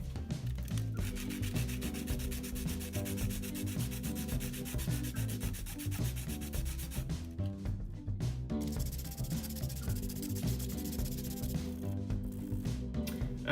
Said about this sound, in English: For sanding, the first thing I want to do is get this paint off the ends and also just smooth out the ends.